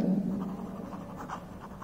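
Writing on a board during a fifth-grade maths lesson, soft scratchy strokes and taps of the writing tool, close and fairly quiet, with no talking.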